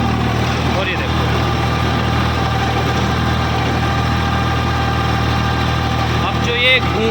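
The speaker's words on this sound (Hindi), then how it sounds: "अब जो ये घूं घूं की आवाज़ सी आ रही है ना, तो ये भाई इसकी ड्यूअल क्लच की आवाज़ है।" A 50 HP tractor engine idles steadily with a low, constant drone, a faint whine from its dual clutch riding on top, while someone talks over it.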